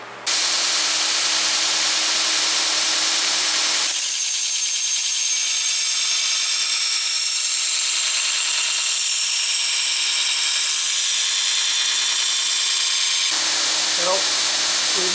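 A coarse-grit grinding machine profiles the edge of a metal cleaver blade, a loud sustained high-pitched grind that drops out briefly, then returns steady and close.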